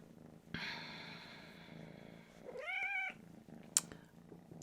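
A house cat purrs softly and steadily close by, then lets out one clear, rising meow before a brief sharp noise and a return to quiet purring.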